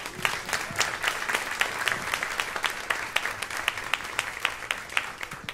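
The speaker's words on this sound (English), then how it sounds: "please give a nice round of applause for our sponsor for this week's show" Crowd applause for the sponsor at a live jazz show, continuous crisp clapping from a sizable audience, even and sustained throughout, with no speech over it.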